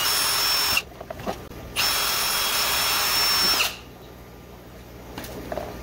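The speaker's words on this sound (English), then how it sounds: "we're just gonna drill a small hole on the top of each one of these bucket lids" A power drill whines at high speed in two bursts, drilling a small hole in a plastic bucket lid, the second longer, with brief quiet gaps and soft handling noise between them.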